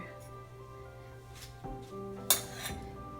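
A dry tempura coating is stirred in a bowl, giving soft scrapes and a few light clinks, one sharper knock near the end, over a steady low background hum.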